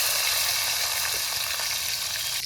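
Chopped ripe tomato dropped into a hot pan of oil and frying, a loud, steady close sizzle throughout with faint stirring, no talk.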